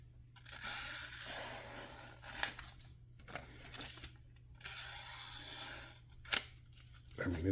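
A sharp Vosteed Acorn knife with a 14C steel blade slices through paper in several rasping, scissor-like swipes. The short cuts come in an uneven rhythm, close up and fairly clear over a steady low hum.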